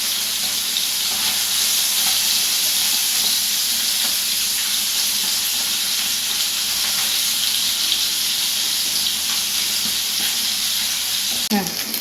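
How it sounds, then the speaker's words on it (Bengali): Amudi fish pieces crackle and sizzle in hot oil in a pan, a steady, dense broadband frying hiss that stays loud and close throughout without pause, with a brief clatter near the end. "পিস পিস করে আমি ভেজে নেব।"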